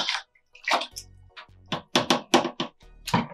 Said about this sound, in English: So I'm just going to use my measuring cup and stir it around a little bit.